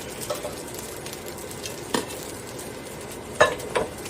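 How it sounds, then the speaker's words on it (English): Green onions are tossed into sizzling fried rice in a pan, with a soft continuous sizzle under a few scattered scrapes and clicks of a utensil, two sharper knocks near the end, and no speech. "I'm going to toss in these green onions."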